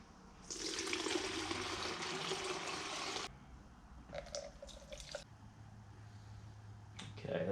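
Demineralized water pours into a 2 litre bottle in a steady, close rushing stream for about three seconds, followed by quieter trickles, drips and handling knocks.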